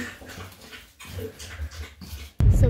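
One-week-old puppies whimper and squeak in soft, uneven bursts close by, ending in a sudden louder rustle or scuffle.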